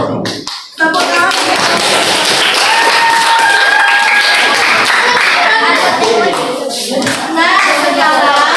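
A class of children clapping their hands in a classroom, a brief tapping start followed by sustained mixed clapping, with children's voices chattering and calling out over it.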